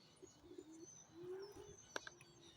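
Birds call outdoors after a wind event, with soft coos and short tonal calls and one sharp squawk near the end, fairly faint against quiet ambient background.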